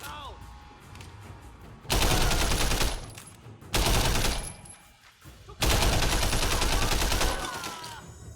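Video game gunfire from Sleeping Dogs bursts out in three loud, dense volleys of rapid automatic shots, each lasting about a second or two, separated by quieter gaps of ambient game noise.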